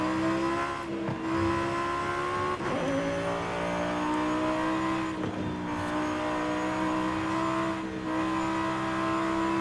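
An SUV tuned into a race car in the video game Forza Horizon, its engine roaring loud and continuous with rising revs and several brief dips at gear shifts, heard alone without talk.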